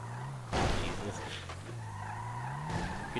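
A car skids through a turn in a driving video game, with a drawn-out tire squeal over a steady engine drone, sharp scrapes and impacts mixed in, and a voice talking over it.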